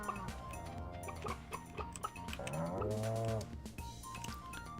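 Cartoonish cows moo in the farming game Stardew Valley, with several overlapping low calls over bright chimes and ticking game sounds in the background.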